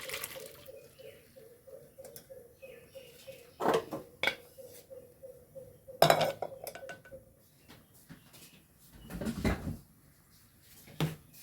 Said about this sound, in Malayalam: ഞാൻ വേവിച്ച ചക്കക്കുരു ഒഴിച്ചു കൊടുക്കുന്നുണ്ട് ഇതിലേക്ക്